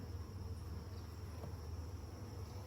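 Honeybees crowd a frame lifted from a nuc as it is moved into a brood box, giving off a steady, faint low buzzing hum throughout with no voices.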